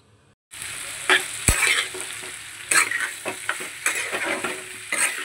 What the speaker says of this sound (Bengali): আমার আলু ভাজাটা হয়ে এসছে